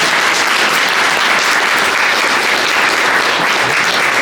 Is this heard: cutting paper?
no